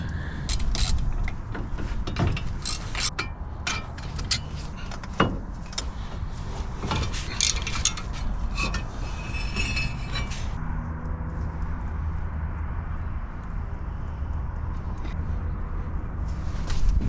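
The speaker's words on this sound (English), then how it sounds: "I'm just playing around with this wheel bearing that I took off the old wheel carrier" An old wheel bearing taken off a Mini's worn wheel carrier is spun by hand, giving a run of rattling metallic clicks and ticks that settle into a smoother, quieter whirr as it slows.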